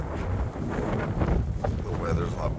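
Steady wind buffets the microphone in a continuous low rumble, with some faint tonal sounds drifting over it.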